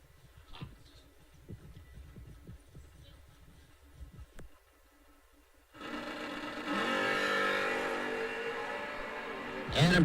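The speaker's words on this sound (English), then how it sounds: "Little S10 will put that thing straight up in the air and go down there and run the number." A Chevy S10 at a bracket drag race starts with a low, uneven idle rumble, then breaks into a loud, sustained full-throttle roar as it launches down the strip.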